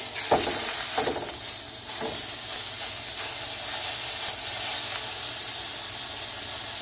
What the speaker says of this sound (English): get the grease on the pan, drop it on there, and then flip it